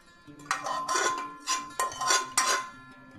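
Spices for a dried mango pickle are stirred with mustard oil, giving a few close, distinct scraping and clinking strokes of a spoon against a metal dish, spaced about half a second apart.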